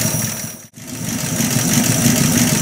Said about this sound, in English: It's running great for being that slow of an idle anyway.